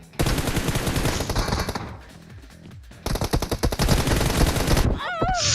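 Automatic gunfire in the PUBG Mobile video game, loud rapid bursts with a brief pause between them, close and dominant, followed by a short voice at the end.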